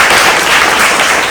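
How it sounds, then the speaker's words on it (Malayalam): Brief burst of dense, loud applause from an audience at a Malayalam talk about Mohiniyattam dance, steady hand-clapping throughout that cuts off abruptly at the end. "കൈയടിക്കും."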